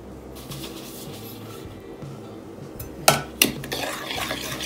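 A spoon stirs sugar and salt together in a bowl with quiet, continuous scraping, then two sharper clinks against the bowl near the end.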